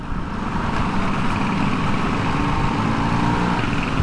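Vespa scooter engine idling steadily with a constant low rumble and broadband hum, close and continuous throughout with no talk.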